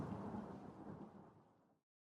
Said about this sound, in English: Lightning flickers on the horizon and a distant rumble of thunder rolls across the sea.